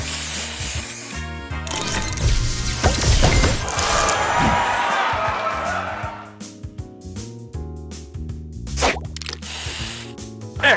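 A spray booster effect in the Match Masters video game bursts with a loud hissing gush and crashing splashes that fade into quick popping game sounds.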